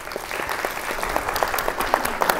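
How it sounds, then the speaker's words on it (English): A lecture audience claps for a presenter speaking about Virginia Woolf, a short burst of scattered, moderately loud individual claps. "Let's give her a round of applause."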